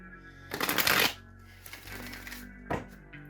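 Tarot cards riffle in a quick shuffle, a dense burst of papery flutter followed by softer sliding and a short final snap, close and alone.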